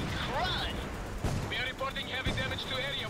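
Heavy cannon fire in the Blazing Angels 2 flight game, a few booming blasts and impacts under a busy mix of game radio voices and engine noise.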